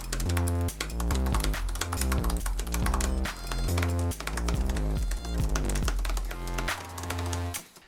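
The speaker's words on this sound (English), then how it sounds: "this also changes the clicking tone of the keys" Fast, dense clicking of Apple MacBook Pro 13 laptop keyboard keys, steady and close, with musical tones running underneath the whole time.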